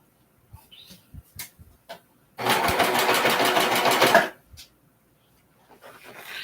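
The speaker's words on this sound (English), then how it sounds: "because this is top stitching that's going to be in the front, I like to take my time" A sewing machine top stitches a seam along a fabric edge in a short, steady burst of about two seconds, close and loud. Quiet handling noises come before and after.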